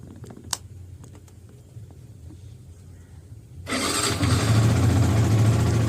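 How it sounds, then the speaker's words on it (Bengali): A Yamaha R15 motorcycle is cold started: after a few clicks of the key and quiet ticking, the engine fires suddenly and settles into a loud, steady, high idle close by. "কোল্ড স্টার্ট দেখাচ্ছি যে R15এও হয়"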